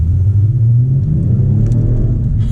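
A 2019 Genesis G70 in sport mode pulls away with a deep, rumbling engine note that builds steadily from inside the cabin, loud and close throughout.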